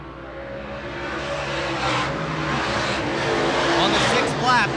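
Late model sportsman race cars roar around a dirt track at the Keystone Cup feature, engines loud and continuous with rising revs, a car passing close near the end, under an announcer's commentary.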